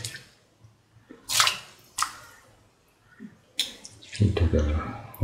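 Soaked, washed rice tipped into a pan of boiling water with a little oil: a few short splashy bursts, then a denser low rush of grains and water near the end, fairly close.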